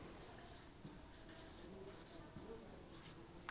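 Pen or pencil writing the Portuguese word lâmpada on paper during a primary-school lesson, a faint continuous scratching with short strokes under low room noise.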